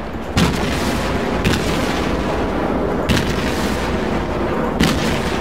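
Heavy naval gun shells booming in World of Warships, four distinct deep blasts spaced a second or more apart over a constant loud rumbling battle backdrop.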